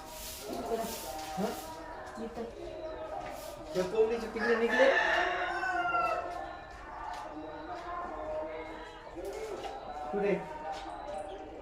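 Chickens and a rooster in a poultry shed, with repeated crowing and clucking close by, mixed over a busy backdrop of bird calls while people talk throughout.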